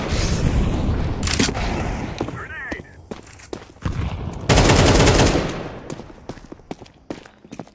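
Gunfire crackles through a Counter-Strike round on the Ancient map: dense rifle bursts, a loud sustained blast like a flashbang going off midway, and sharp scattered shots afterward, all close and loud with brief voice chatter.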